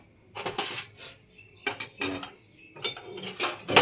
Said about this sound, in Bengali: একটু মিশিয়ে দাও